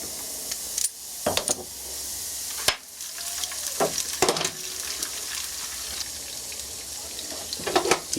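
Food frying in oil gives a steady, loud sizzling hiss, broken by a few sharp clatters and stirring knocks. No one speaks.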